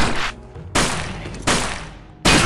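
Gunfire from the PC tactical game UFO: Afterlight, three loud bursts of shots each hitting sharply and trailing off over a fraction of a second, with a fourth starting at the end, no talking.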